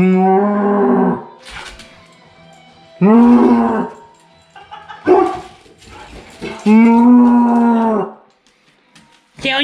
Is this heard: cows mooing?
yes